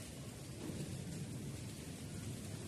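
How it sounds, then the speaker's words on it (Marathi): Steady, dense unseasonal rainfall with low thunder rumbling underneath, continuous and fairly loud throughout, with no voices. "असा अवकाळी पाऊस आला"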